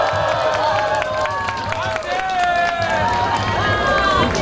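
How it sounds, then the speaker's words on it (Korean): An audience at a Catholic laity current-affairs gathering applauds a speaker's introduction with steady, dense clapping and scattered cheers, close and continuous throughout, with voices mixed in. "큰 박수 부탁드립니다"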